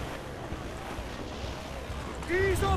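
Wind rushing over a sailing ship at sea in the game Assassin's Creed 4: Black Flag, a steady blustery roar with water wash, and a voice briefly sounding near the end.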